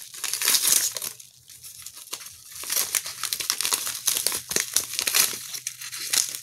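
Plastic packaging and bubble wrap being pulled apart and unwrapped from a sealed parcel, with loud close crinkling and crumpling in bursts, brief tearing sounds and pauses between handfuls.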